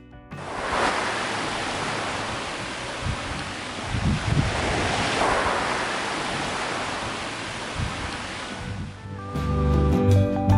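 Ocean surf washes steadily onto a rocky coastline along the Taean Peninsula in Korea, a broad continuous roar with swells rising and falling, no voices, and a faint tonal sound creeping in near the end.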